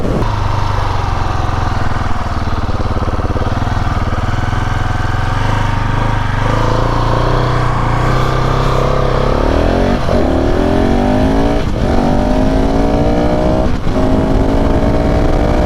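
A KTM 690 SMCR single-cylinder supermoto engine runs loud and steady while riding, pitch sliding down then climbing again through gear changes, close and continuous with no talking.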